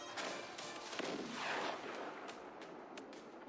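Cannon fire in the strategy game Forts, a series of booming shots with rumbling decay, moderately loud, ending with a sharp new blast.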